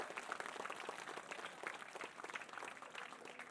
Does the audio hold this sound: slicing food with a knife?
no